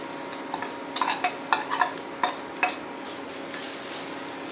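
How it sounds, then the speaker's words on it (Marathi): Freshly grated coconut cooking with jaggery in a pan as filling for karanji, with a gentle sizzle under a series of irregular spoon scrapes and knocks against the pan, close and fairly quiet, with no talk. "आता ओलं खोबरं गुळामध्ये चांगलं शिजवून घेऊया।"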